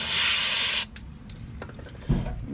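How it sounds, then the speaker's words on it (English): Aerosol lubricant sprayed down into a brake caliper's slide pin hole during a brake job on a Ford Freestar, a loud steady hiss lasting under a second, then quiet workshop handling noises and a low thud. "Spray it down inside the hole right here."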